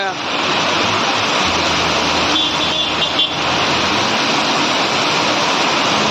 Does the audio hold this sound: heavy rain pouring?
yes